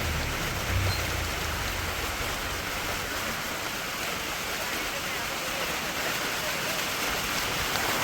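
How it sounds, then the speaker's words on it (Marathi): Steady monsoon rain pours down in a dense, even hiss, loud and close, with a brief low rumble near the start. "पावसाचा जोर वाढायला असं लागला"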